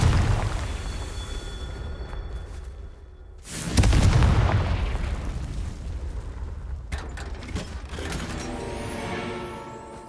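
A Confringo fire spell detonates in Hogwarts Legacy with a deep booming blast that rolls and decays over several seconds, followed by magical shimmering and rumbling effects, loud and close with no talk.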